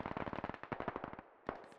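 Suppressive automatic gunfire in the military shooter game Squad, rapid bursts of sharp shots in a fast rhythm, a brief pause, then more shots, fairly close and alone without talk.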